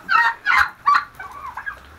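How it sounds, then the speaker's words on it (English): Turkeys on a farm give three loud, close gobbling bursts in quick succession, followed by softer, trailing warbling calls. "Turkeys are so cool."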